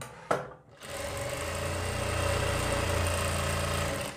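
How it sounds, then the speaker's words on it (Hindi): A sewing machine stitches a kurti collar, running in one steady whirring, humming burst after a short click and pause, close and without speech. "अब इसको हम लगाएंगे सिलाई और ये जो सिलाई होगी पेस्टिंग पे बिल्कुल भी नहीं लगनी चाहिए"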